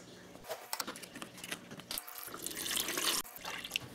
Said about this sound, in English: I will add the water now.